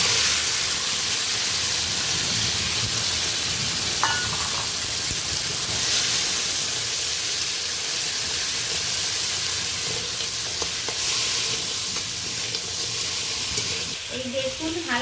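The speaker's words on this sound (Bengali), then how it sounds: "এই কাঁকড়াগুলো ভেজে নেব" Crabs fry in a little oil in a wok, a steady close sizzle and hiss with occasional stirring scrapes and small pops over fifteen seconds.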